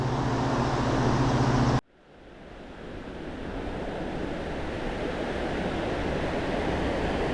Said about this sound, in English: That's an awful lot of water coming over there.